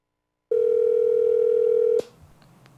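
A dropped call-in line on a radio show gives a loud, steady telephone tone for about a second and a half. It cuts off abruptly with a click, followed by faint line noise.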